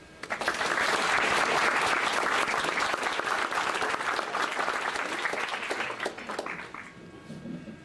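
An audience at a lecture breaks into applause to welcome the speaker, a dense, even wash of many hands clapping that swells quickly, holds steady, then tapers off near the end.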